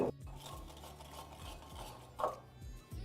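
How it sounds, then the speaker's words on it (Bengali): Cornflour stirred with a little water and salt into a slurry, heard as close, soft scraping and rubbing of a spoon against a bowl with a few light clinks. "এই কর্নফ্লাওয়ারের মধ্যে আপনাদের দিয়ে দিতে হবে অল্প একটু জল আর তারপর অল্প একটু নুন দিয়ে এটাকে ভালো করে একবার মিশিয়ে নিন"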